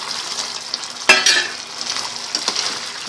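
Deep-fried chicken necks drop into a boiling sauce and give a sudden loud sizzle, followed by frying crackle and a few bursts of stirring, with no voices.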